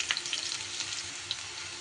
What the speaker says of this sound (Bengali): আমি কিন্তু কুমড়ো আর আলু ভেজে নিলাম।